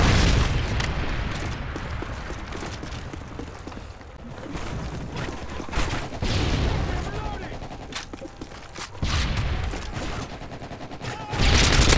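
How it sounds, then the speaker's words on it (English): A Predator missile strike lands among dense gunfire in a multiplayer shooter game, with heavy booms and rapid bursts of automatic shots that rise and fall across the scene, and voices are heard under the din. "Ready for launch. Friendly Predator missile inbound."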